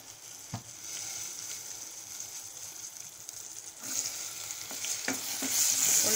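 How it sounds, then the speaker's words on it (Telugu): Onions dropped into hot ghee in a pressure cooker with cinnamon, star anise and cardamom, sending up a soft steady sizzle that swells louder toward the end, with a few scattered spoon clinks up close. "నెక్స్ట్ ఉల్లిపాయలు వేస్తున్నాను"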